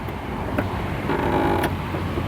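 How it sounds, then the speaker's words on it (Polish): A 2024 Volkswagen Multivan Edition's powered sliding door closes by itself after a button press, giving a low mechanical creak and whir with a couple of soft clicks, close by and without speech. "wystarczy, że naciśniemy tu guzik i drzwi się same zamkną."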